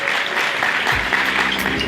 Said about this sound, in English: One more round of applause for Lorraine Clayton.